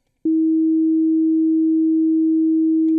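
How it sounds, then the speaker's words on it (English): A steady, pure sine wave tone generated in Unreal Engine 5 MetaSounds starts abruptly and holds at a constant pitch, clean and loud, with no other sound. "You control it just by the actual frequency that this sine wave will be oscillating"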